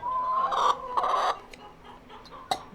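Backyard chickens clucking close by, a run of loud cackling clucks in uneven bursts with a sharper squawk near the end, no talking.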